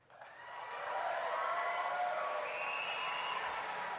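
A debate audience at a Conservative leadership debate breaks into applause and cheering. The clapping builds quickly and holds as a loud, steady wash of hands with a few whoops.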